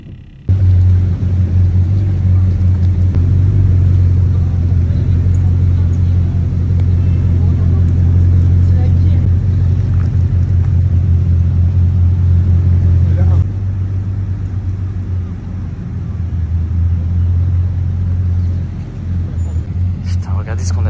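A Bugatti Chiron 300+ hypercar rolls up and parks on a golf course with a deep, steady engine rumble close by, easing off toward the end. People talk excitedly over it.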